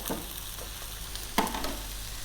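Beef burger patties, half-pound size, frying in a hot pan over high heat, giving a steady close sizzle and crackle throughout with one brief sharper clatter partway through.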